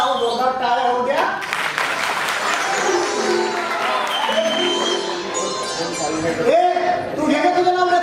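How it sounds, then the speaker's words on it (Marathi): An audience claps in a burst of applause that rises then fades, mixed with crowd chatter and a voice speaking and singing over it at a comedy show. "मान राखला हो दोघात टाळ्या होऊ द्या"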